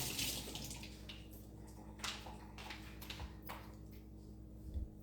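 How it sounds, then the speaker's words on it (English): Running tap water splashes over a tomato being washed at a kitchen sink, a steady faint rush with a few brighter splashy bursts, no talking. "Wash this tomato."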